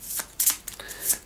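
Spell cards from the Quarriors! dice-building game being shuffled by hand, giving several quick papery riffles and rustling bursts close by, with no talking.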